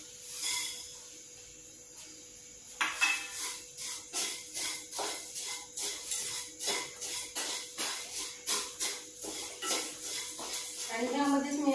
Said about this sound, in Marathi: त्यामध्ये आपल्याला हे शेवया भाजून घ्यायचे.